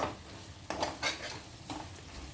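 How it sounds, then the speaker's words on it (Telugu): A spoon stirs garam masala powder into a dried shrimp and tomato curry in a metal pan, giving a few faint scraping, clinking strokes with quiet gaps between them. "కొంచెం లైట్గా గరం మసాలా పొడి వేసుకొని కలుపుకోవాలి."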